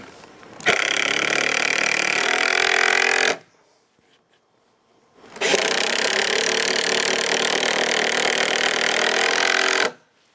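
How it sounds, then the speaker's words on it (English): Two long, loud whirring bursts as 2.5-inch screws are driven into picnic table boards, the first about three seconds and the second about four and a half, separated by a near-silent pause. "We'll just screw this first one into place."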